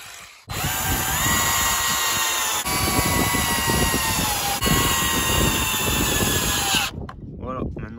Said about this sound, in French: maintenant on préperce les 3 trous